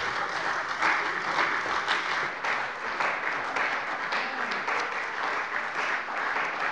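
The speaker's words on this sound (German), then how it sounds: "Applaus" Applause in a German state parliament plenary session, sustained rhythmic clapping from many members with slight rises and dips, heard alone without speech.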